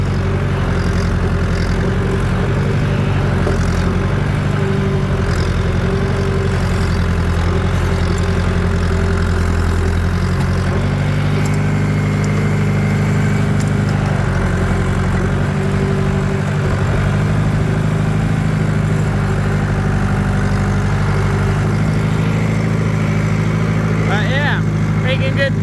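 A John Deere loader tractor engine runs loudly and continuously up close, a steady low diesel drone with slight changes in load, while a person talks over it.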